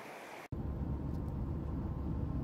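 A river at Rogie Falls in Scotland rushes steadily, a dense broadband roar that starts abruptly after a short quieter moment and then holds constant.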